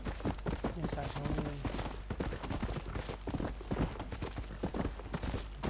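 Horse hooves clip-clopping in Red Dead Redemption, a steady rhythmic patter of steps running close and clear throughout, with someone talking over much of it.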